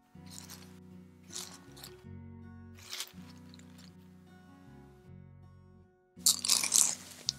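Crisp bites and crunchy chewing of a warm homemade cinnamon donut, several distinct crunches in a row, close and alone with no talk.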